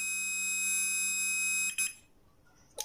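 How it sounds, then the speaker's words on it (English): A multimeter set to continuity gives a steady, bright electronic beep for about one and a half seconds while checking a steam iron's thermostat, then cuts off, followed by a short second chirp after a quiet pause. "Set multimeter to continuity."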